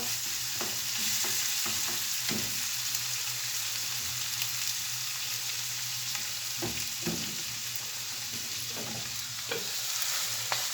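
Filling for içli köfte is sautéed in a pan, a continuous loud sizzle with scattered scrapes and knocks from stirring, no voices.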